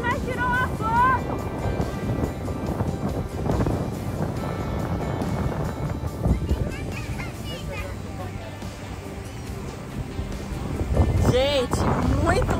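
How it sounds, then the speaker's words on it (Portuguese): Strong wind on a beach buffets the microphone in a steady, loud rush, with what may be surf beneath it. Voices talk throughout. "Gente, muito vento aqui."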